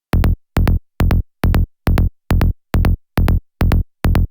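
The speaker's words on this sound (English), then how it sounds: "the bass sounds like this" Psytrance bass synth in Serum with the main oscillator added back, firing ten short punchy notes in an even, driving rhythm, each with a quick tail and clean gaps, heard alone.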